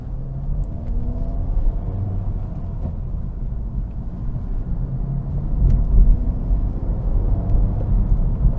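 A 2024 Acura Integra Type S with a 6-speed manual being driven, heard from inside as a steady low engine and road rumble that swells slightly toward the end, with no talking.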